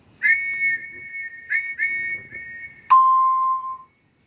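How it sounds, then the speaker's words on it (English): A steady, sustained whistle tone sounding in several long blasts, the last one dropping lower in pitch before fading out. "but that night, Lily heard the sound of a train whistle outside her window"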